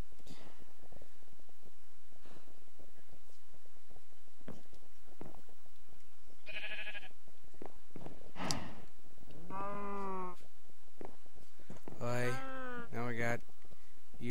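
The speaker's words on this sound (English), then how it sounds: "And there's a sheep." A Minecraft sheep bleats a few times in short, wavering calls amid game sounds, with a person talking over it.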